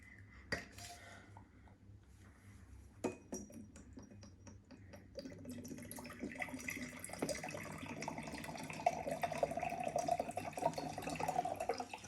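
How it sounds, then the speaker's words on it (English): Water is poured into a container while mixing food colouring for a children's colour activity. It starts with a few sharp clinks of dishes, then builds into a steady splashing, trickling fill that grows louder over several seconds, with no talking. "Now we need to put some water."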